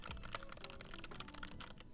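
Brisk typing on a computer keyboard, a rapid run of crisp, close clicks and clacks lasting about two seconds, quiet and with no talk.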